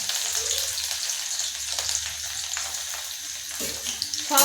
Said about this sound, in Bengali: এই যে এখন আমি রসুনটা ভেজে নিচ্ছি।